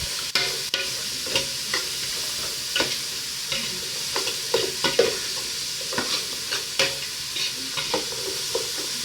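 Vegetables for fish fried rice sizzle steadily in a hot pan while a utensil stirs and scrapes them in repeated irregular strokes, close and clear with no talking.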